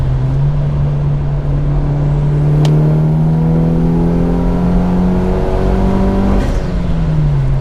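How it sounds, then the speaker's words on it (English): Turbocharged Mitsubishi Evo accelerating on a highway, a loud, steady engine drone climbing through the revs with a brief shift break and continuous road and wind rush. "Let's give you guys a quick little highway pull here."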